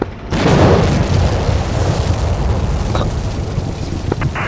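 A tank cannon fires in a combat video game, one sudden heavy boom followed by a long rumbling roar that slowly fades, loud and close, with no voices.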